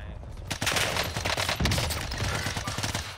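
Rapid bursts of H4 Blixen gunfire from a Rebirth Island video game match crackle loud and close, nearly continuous for a few seconds under brief speech.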